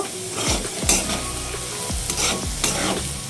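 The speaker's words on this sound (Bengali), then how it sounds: "গাজরটাকে দিয়ে আমি 2 মিনিটের মতন হাই ফ্লেমে নাড়াচাড়া করে নেব" Sliced carrots stir-fried on high flame for vegetarian chowmein, a loud continuous sizzle broken by repeated rhythmic scraping strokes of a spatula through the pan, with no talking.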